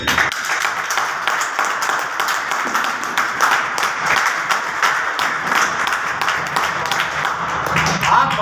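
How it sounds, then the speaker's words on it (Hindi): Crowd at a training meeting applauding for Surendra ji, a long burst of hand clapping with distinct sharp claps in a fairly rhythmic patter, loud and sustained for several seconds. "एक बार जबरदस्त ताली सुरेंद्र जी की"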